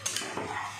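Food being sautéed and stirred in a pan, with a couple of brief metallic clinks of a spoon against the pan over a faint steady sizzle, close and fairly quiet.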